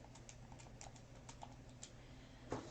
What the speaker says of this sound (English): So I'm just typing this into my calculator.